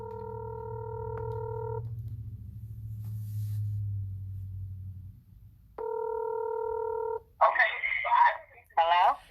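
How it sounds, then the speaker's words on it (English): Telephone line tones on a call-in talk show: a steady multi-tone signal runs for a couple of seconds, pauses, then sounds again loud and close before voices come in. "You are just ringing."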